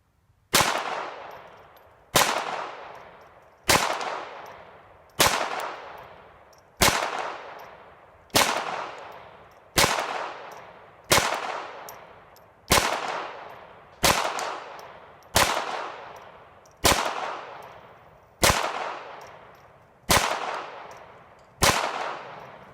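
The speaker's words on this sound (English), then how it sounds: "we're going to load up and we'll shoot in single action mode" A Beretta 92FS pistol fitted with an Umarex .22 LR conversion kit fires fourteen sharp single-action shots outdoors at a slow, steady pace of about one every one and a half seconds, each crack leaving a short decaying ring.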